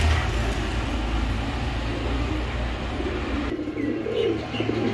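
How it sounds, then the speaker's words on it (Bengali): A pair of large Lahori pigeons coo softly and continuously nearby, a low, steady murmur over a constant background hum. "এক পেয়ার বিগ সাইজের লাহুরি কবুতর আছে"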